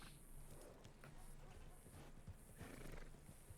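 Horse neighs and clip-clopping hooves in Red Dead Redemption 2 roleplay, a whinny sounding over steady hoofbeats and game ambience while people talk faintly in the background.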